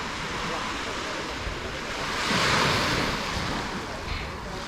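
Waves wash onto the hotel beach at Marbella as a broad, steady surf hiss, with one swell rising and falling midway and light wind buffeting the microphone.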